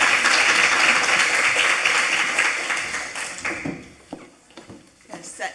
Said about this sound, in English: join me in giving our panelists a round of applause